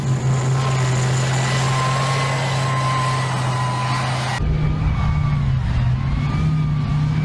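An armoured tank with a mounted gun in a dinosaur video game runs with a loud, steady engine drone and a whining tone throughout, shifting character partway through without any talking.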